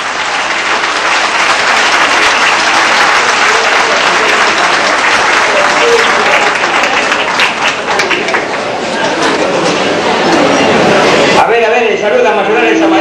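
Loud, sustained applause from an audience after a tango dance performance, dense clapping with crowd chatter mixed in, and a voice speaking over it near the end.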